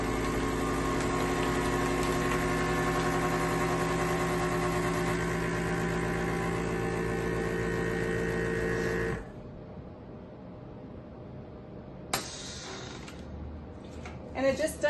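A vacuum sealer runs on a bag of frozen tilapia: a loud, steady motor drone for about nine seconds, then it cuts off abruptly, followed by a few sharp clicks and light handling noises.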